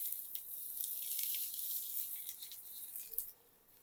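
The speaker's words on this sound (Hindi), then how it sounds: "अब चारों तरफ से इस तरीके से घुमाएंगे और अपने आम पे हम तड़का लगाएंगे" Hot oil with asafoetida is poured over mango pickle as a tempering. It makes a faint, crackly high-pitched sizzle that flickers for a few seconds and then fades.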